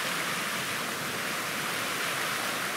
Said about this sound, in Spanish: Acá se juntan dos afluentes de agua